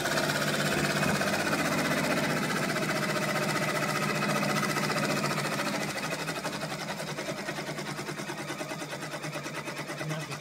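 An embroidery machine stitches a design onto a kitchen tea towel, a steady, fast mechanical whir with rapid needle chatter running continuously and close, easing slightly in loudness partway through.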